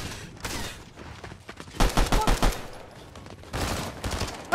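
Rapid bursts of video game gunfire, including shotgun blasts, come in clustered volleys with short gaps, moderately loud and close, with faint voices in the background.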